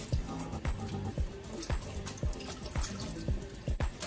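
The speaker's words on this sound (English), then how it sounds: "we're just gonna unplug this now and let all the water out" Water drains out of an unplugged sink full of soaking synthetic wig hair, a quiet gurgling and dripping flow with soft repeated pulses in the background.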